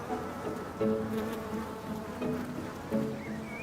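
Bees buzz steadily and close by at a school garden, a continuous droning hum that swells and fades slightly as insects move around, with no talking.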